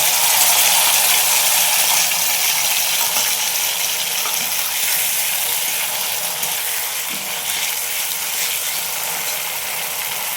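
Potatoes frying in hot oil with a ground roasted cumin and coriander paste, a loud dense hiss of sizzling that stays steady and close throughout, easing only slightly toward the end, with no talk.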